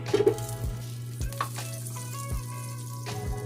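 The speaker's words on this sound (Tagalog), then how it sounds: "nagpainit na po ako ng pan. So, una guys, maglagay po tayo ng butter." Butter sizzles and crackles steadily in a preheated pan, a close continuous frying hiss with a few small pops and soft stirring scrapes, no one talking.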